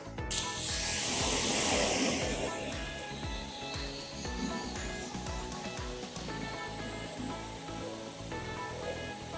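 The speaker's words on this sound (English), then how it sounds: "All we want to do is we want to take our pressure washer or hose and start hosing that down." A pressure washer sprays water onto the wheel of a ceramic coated car, opening with a loud hissing blast and then settling into a steady spray mixed with mechanical clicking, close by, with no speech.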